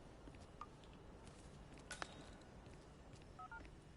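Phone keypad tones sound in the Hitman 3 video game as a number is dialed, with a few short beeps, one of them louder, over a quiet steady game background.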